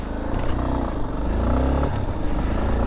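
A Yamaha XTZ 250 Lander motorcycle engine rumbles steadily up close while the bike jolts and clatters over rough, uneven off-road ground and potholes.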